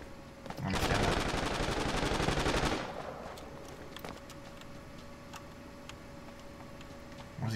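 A loud sustained burst of automatic gunfire in the video game Rings of Elysium, lasting about two seconds, then fading into quieter ambience broken by a few faint sharp ticks and distant pops.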